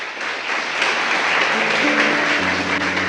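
Church congregation applauds during a worship service, a thick wash of clapping that swells after the first second, with sustained musical tones rising beneath it toward the end.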